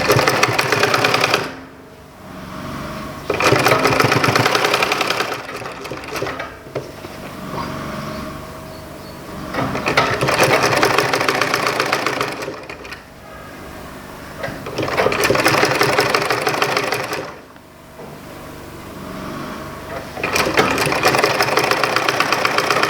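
A sewing machine stitches a shirt sleeve in loud, steady bursts of rapid mechanical whirring, several runs separated by short pauses, close to the listener with no talk.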